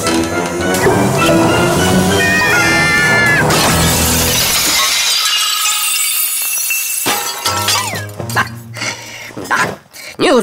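Glass objects shatter and crash in an animated cartoon, arriving amid busy music and sound effects, loud and cluttered, with a character's voice briefly on top.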